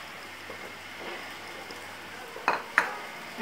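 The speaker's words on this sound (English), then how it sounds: "And we will just mix this all well." Butter, curd and condensed milk being mixed for an eggless brownie batter sound as quiet soft stirring, then a few sharp spoon clinks against the bowl near the end.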